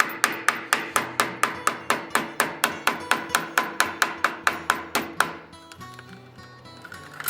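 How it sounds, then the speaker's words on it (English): Hammer upsetting rivets on a handmade brass bikini top, about twenty sharp, evenly spaced metallic blows in a steady rhythm, close and loud, followed by a short pause and quieter handling. "tap it down, and upset the rivets"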